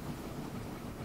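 Steady rumble of a train running in the Anno 1800 video game, a continuous rolling rail noise with faint rhythmic clatter, short and even with no voice.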